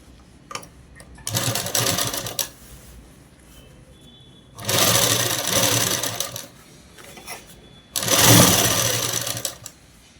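A sewing machine stitches polyester lining onto a child's frock in three loud, steady runs, each lasting about one to two seconds, with quiet pauses and light handling noise between them.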